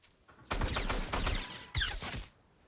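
Rapid bursts of gunfire in Fortnite, two close, loud volleys of repeated shots separated by a brief pause.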